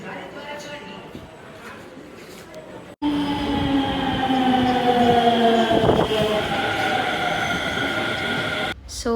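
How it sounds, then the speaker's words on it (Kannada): Delhi Metro train ride from inside the carriage: a quieter hum gives way to a sudden loud steady roar with rising whine-like tones as the train accelerates, a brief squeal midway, continuous throughout. "ಮೆಟ್ರೋ ಹತ್ಕೊಂಡು ನಾವು ಅಲ್ಲಿಂದ ಅಕ್ಷರಧಾಮ್ ಮೆಟ್ರೋ ಸ್ಟೇಷನ್ಗೆ ಹೋದ್ವಿ"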